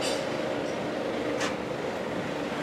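Steady, loud rumble of a roller coaster train riding on its tracks, a continuous broadband roar that holds evenly throughout with a brief hiss partway through and no voices.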